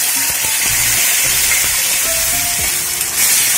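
Chopped tomato drops into onions frying in a pan, giving a steady hiss and sizzle with a few soft stirring knocks, close and fairly loud throughout, with no talking.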